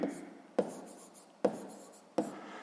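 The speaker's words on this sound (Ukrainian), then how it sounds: "Записуємо, що це у нас буде радіус круга" A pen scratches across paper during a sixth-grade maths exercise, with a faint continuous scratch broken by three sharp taps as strokes begin, quiet and close.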